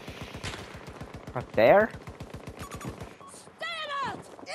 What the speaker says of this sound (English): Where's the shooting coming from?